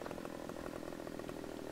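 A chainsaw in Farming Simulator 15 buzzes steadily at a constant pitch, cutting trees, with no voices over the short burst.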